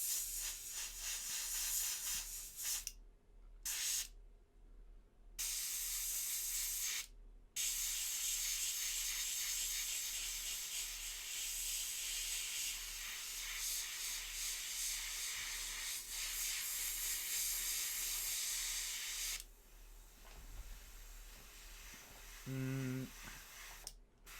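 Paint sprays onto a miniature's armor as a steady close hiss that comes in long bursts separated by a few short breaks, with faint clicks toward the end.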